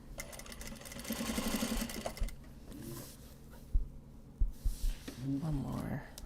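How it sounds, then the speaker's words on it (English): A sewing machine stitching a luggage handle in a home workshop: a steady, close mechanical whir for about two seconds, then scattered clunks and handling noises, with some voice nearby. "last luggage handle to sew"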